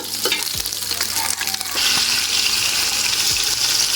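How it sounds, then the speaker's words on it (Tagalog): Onion and garlic sautéing in hot oil for sinigang, a loud close sizzle that swells partway through, with stirring clinks and scrapes from a ladle and no voices. "Ginigisa na po natin."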